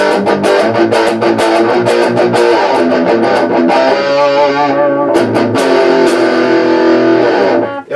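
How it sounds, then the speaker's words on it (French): An electric guitar runs through a Behringer UM300 Ultra Metal distortion pedal, playing loud, heavily saturated chords and riffs continuously with no talking. "on va monter aussi tout doucement des petits réglages"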